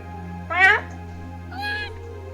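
A cat in the Trails of Cold Steel video game meows twice, a clear near meow followed by a softer second one about a second later, over a low steady background hum.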